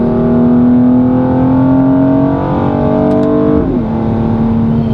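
A loud, close 2020 Mercedes-AMG GLC 43 4matic SUV engine drones and rises in pitch through the exhaust, then drops back as the revs fall.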